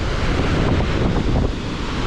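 Ocean waves and strong wind roar at the Malabar Headland cliffs in Sydney, forming a loud, broad, unbroken rush. Gusts buffet the microphone throughout with no clear individual wave breaks.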